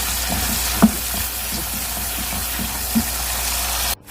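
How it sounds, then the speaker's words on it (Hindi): Spice masala frying in a pan with a little water added, for besan khandoiyan (dhokli), gives a steady close sizzle with faint stirring scrapes and a couple of soft clinks, ending abruptly. "थोड़ा थोड़ा पानी डाल के भूनें, ताकि इसमें आपको मसाला भी कच्चा ना रहे और इसकी भुनाई भी हो जाए"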